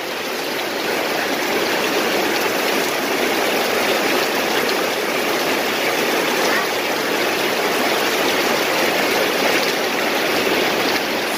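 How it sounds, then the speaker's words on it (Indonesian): Heavy tropical rain pours down over a vegetable garden in a steady, unbroken hiss of falling water that is loud and close for the whole stretch, with no pauses. "sebab hujan dia turun dengan lebat"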